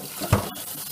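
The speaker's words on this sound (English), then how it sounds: "Fill up the pot with cold water as cold as you possibly can." Cold tap water runs from a faucet into a cooking pot, making a steady close splashing rush with a brief louder gush near the middle.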